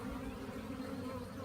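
Honey bees buzzing at an open hive during an inspection ahead of a tropical storm, a soft continuous drone of many bees close by, steady and without talk.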